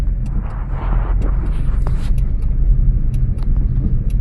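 A car engine in second gear during a driving lesson, running with a steady low rumble and gentle, even throttle, no sharp revs, close and continuous with faint road noise.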